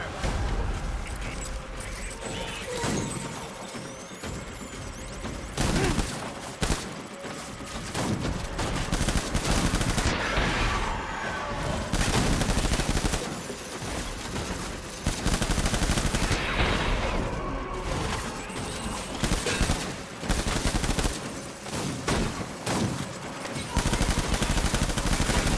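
Gunfire in the video game Death Stranding on very hard difficulty, dense bursts of rapid shots and crackling fusillades that come in loud waves with brief lulls between them.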